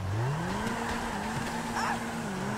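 Drifting car in GTA 5 online, a modified Karin Futo, with a steady rising engine drone and intermittent tire squeal through a slide, continuous and fairly loud.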